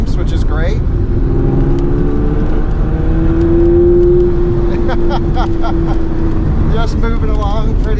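A classic Mini fitted with a 500hp engine drives along at steady speed, its engine droning loudly and continuously up close, with a sustained hum rising slightly mid-drive while people talk over it inside the car.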